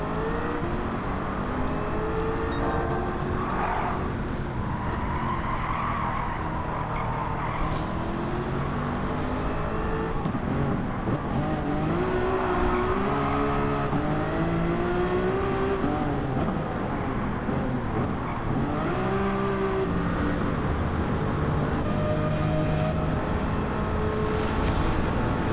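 A Lamborghini Murcielago and other race cars run on a circuit during a challenge-series race, engines rising and falling as they pass at moderate distance, the drone steady throughout.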